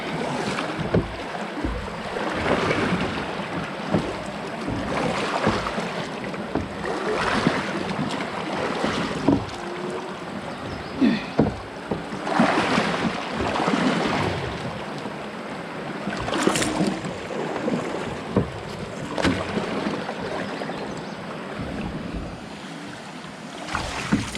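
Canoe being paddled on deep water in the Boundary Waters wilderness, with steady splashing strokes, water lapping against the hull and a light wind throughout, close and fairly loud.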